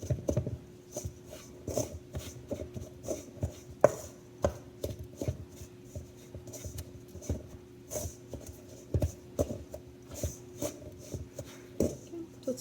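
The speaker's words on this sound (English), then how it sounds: "But I'm going to keep mixing." Swedish apple pie batter is stirred by hand in a bowl, making soft, rhythmic knocking and scraping strokes at a steady pace, close and fairly quiet.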